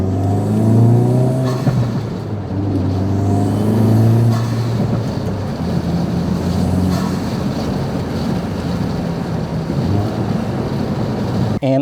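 2024 Acura Integra Type S with a Boomba bypass valve and Hondata tune revving, the engine rising and falling in pitch a few times before settling into a loud, steady rumble.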